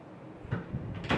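An IKEA KOPPANG chest drawer slides into place, with a soft scrape followed by a louder knock as it closes. Both sounds are close and brief.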